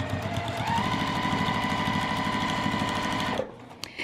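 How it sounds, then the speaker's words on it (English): A sewing machine stitches a roll-up pencil case in a fast, steady mechanical chatter that runs loud and close for over three seconds, then stops abruptly and is followed by a couple of faint clicks. "We're gonna go ahead and put that back in the machine and just continue sewing on,"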